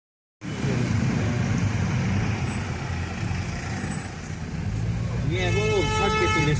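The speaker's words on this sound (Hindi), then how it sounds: "ये आ रही है हमारे ऑफिस की गाड़ी।" An office vehicle pulling up on a road in Bansbagad, a continuous loud engine and road rumble with a hiss, then rising tonal engine or horn notes near the end, while someone talks over it.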